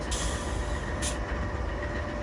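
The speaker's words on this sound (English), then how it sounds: "Our train for today is the mighty GP382 diesel locomotive from the excellent Open Rails Train Simulator." A GP38-2 diesel locomotive in the Open Rails Train Simulator video game gives off a steady, loud, low rumble with faint hiss, continuous and without speech.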